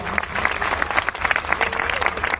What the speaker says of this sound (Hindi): मैं चाहता हूं एक जोरदार तालियां गुरुदेव के लिए हो जाए